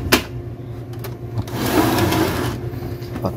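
An Epson L3110 inkjet printer runs a test after a sensor repair, giving a steady close mechanical whirr with a louder burst of carriage and feed motor noise in the middle, no voices.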